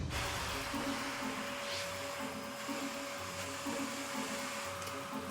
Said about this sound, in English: Sorry about the owner walking through with a Hoover.